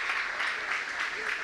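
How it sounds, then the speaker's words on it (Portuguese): A church congregation claps together in steady, dense applause, loud and close, filling the whole short moment without a break. "Dá uma salva de palmas ao nome do Senhor."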